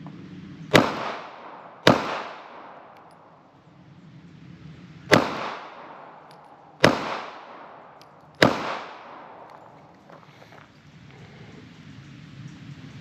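Pistol fired left-handed through a full magazine: five sharp, loud shots spaced unevenly, each with a ringing outdoor decay, the last followed by a quieter stretch.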